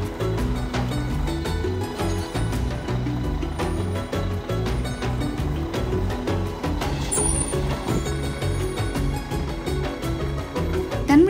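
A large off-road expedition truck grinding up a rough track toward the Erta Ale volcano in Ethiopia's Danakil Depression, its engine droning loud and constant with rattling and clunks from the cab throughout.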